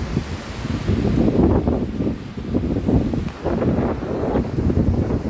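Strong gusty wind buffets the microphone beside the brimming Indravati river at Barsur, a steady low roar that surges and dips, with no voices.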